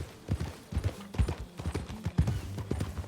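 Horse hooves clip-clop in Red Dead Redemption 2, a steady trotting rhythm of close, distinct hoofbeats repeating over about three seconds.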